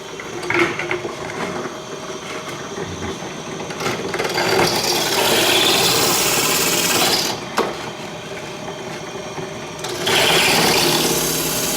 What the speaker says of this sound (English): So a little bit more on the drill. So this is a spot weld cutter that's in here.